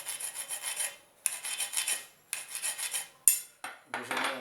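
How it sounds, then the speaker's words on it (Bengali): A hand file rasps across a metal tube before hard soldering, in repeated rhythmic back-and-forth strokes grouped into several bursts, close and fairly loud, with a couple of sharp metallic knocks between bursts and no talk. "এখন কি করতে হবে, আমাদের ঘষে নিতে হবে"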